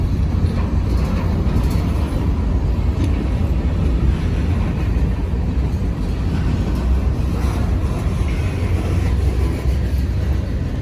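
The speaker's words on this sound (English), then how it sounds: "the other train is just now going past the defect detector" A long Norfolk Southern freight train rolls past with intermodal cars at the rear, a loud, steady rumble of wheels on rail holding constant throughout with faint clickety-clack and no talk.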